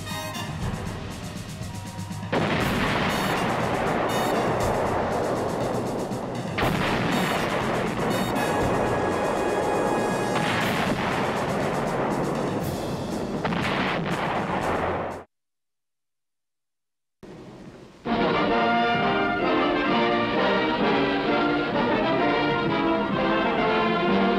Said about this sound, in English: the big guns go into action